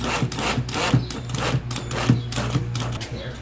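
Drill boring a starter hole through a Craftsman VersaTrack wall track into a wooden wall stud, a steady close motor whir with a few sharp bites and catches as the bit cuts in.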